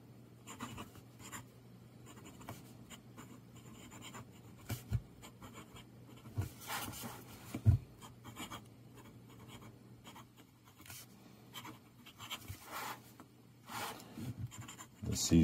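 A Faber-Castell Loom fountain pen scratches across paper in short, irregular strokes, faint and close, with small taps and pauses between letters over a low background hum.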